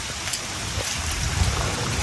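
Rain falling steadily on a mountain hiking trail while descending Mt. Manabu, a dense, continuous patter of drops, fairly loud and close, with no talk.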